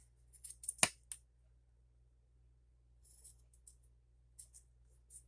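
A few crisp scissor snips through craft paper while trimming an envelope from a 6 x 6 paper pad, one sharp close cut followed by lighter faint clicks and rustles in a quiet room.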